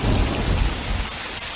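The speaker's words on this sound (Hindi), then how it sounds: "आधे घंटे से लगातार बारिश हो रही थी, लेकिन अब बारिश और तेज होने लगी थी।" Heavy rain pours steadily with rumbling thunder underneath, a dense, loud storm wash filling the short stretch without any voices.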